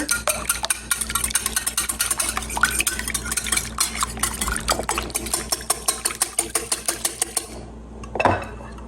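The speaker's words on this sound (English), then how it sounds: "You will need 6 large eggs. Just scramble them together." Six large eggs are whisked briskly in a bowl for a custard, a fast run of close, clinking strokes against the dish that stops near the end, followed by a single louder clatter.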